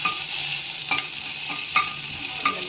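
Ginger garlic paste sautés in two spoons of oil with a steady bright sizzle, broken by three sharp scrapes of a stirring spoon against the pan.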